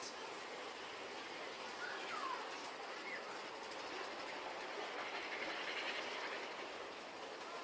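A steady rumbling roar of the Big Thunder Mountain Railroad mine train roller coaster at Disneyland rolling along its track, with faint clatter and a muffled distant background throughout.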